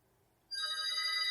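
A telephone starts ringing abruptly after a brief silence, with a bright, steady electronic ringtone that stays loud and continuous to the end.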